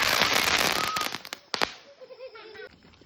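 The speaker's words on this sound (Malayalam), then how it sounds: "നമ്മളെ പെരുന്നാളിൻ്റെ കമ്പിത്തിരി മേശത്തിരി പൊട്ടിക്കൽ" Eid fireworks, sparklers and ground spinners set off outdoors, giving dense crackling and fizzing bursts with sharp pops near the middle, then a fading hiss, with faint voices in the background.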